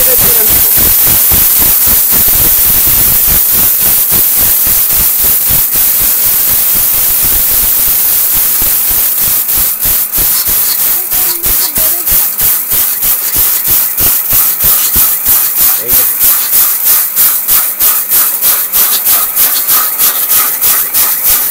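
Miyako high-power blender grinding lentils into besan flour, a loud, continuous rough whirring with a steady rapid pulsing grind throughout, alone without talk.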